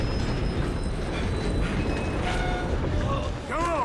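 A train rolls along in the Red Dead video game with a continuous heavy rumble and clatter, steady and fairly loud throughout, while faint tonal game sounds rise near the end.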